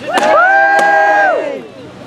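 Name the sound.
crowd cheering for Sir Matthew Delahaye at a medieval tournament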